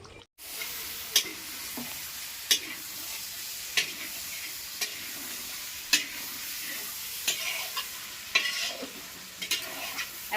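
Chicken sizzles in a pan as water goes in, a dense steady hiss punctuated by regular sharp clacks of a spoon stirring against the pan, close and fairly loud.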